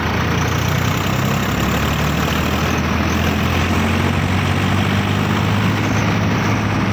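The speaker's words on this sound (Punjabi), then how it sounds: "ਮਿੱਟੀ ਪੂਰਾ ਖਿੱਚਦਾ ਟਰੈਕਟਰ ਪੂਰਾ ਹੈ ਫੁੱਲ" A loaded farm tractor fitted with a bumper and hook works its engine under heavy strain, pulling a full load of soil. The low diesel drone stays steady and loud throughout, with no voices.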